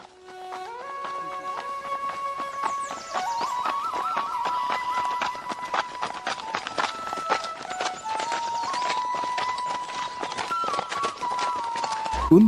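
Two riders on horseback set out in an animated moral story: a steady, rapid clip-clop of hooves runs throughout beneath sustained background music.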